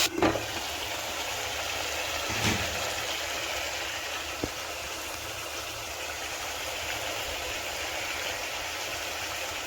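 Mixed vegetables cook in oil for vegetable biryani, giving a steady, even sizzle close by, with a couple of faint knocks early on and no voices.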